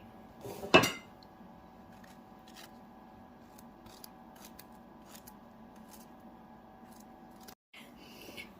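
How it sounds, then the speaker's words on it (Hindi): A knife cuts banana and guava on a plate for a sweet-and-sour fruit chaat, opening with one loud sharp clack of blade on plate, then quiet soft slicing ticks spread over several seconds, close and fairly faint. "अब हम बनाना काट रहे हैं जल्दी से। अब हम अमरूद काटेंगे।"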